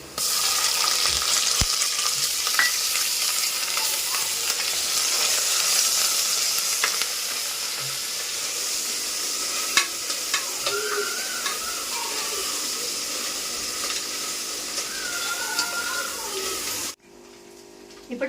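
Ginger-garlic paste and onions fry for biryani in a pan, giving a dense, continuous close sizzle with occasional stirring clinks and a voice talking over it, before the sizzle cuts off sharply near the end.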